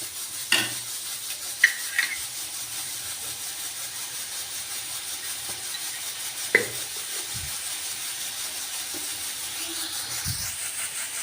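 Desi ghee and garlic sizzle as a tadka for washed moong dal, a steady hissing bed with a few sharp clinks of a utensil against the pan.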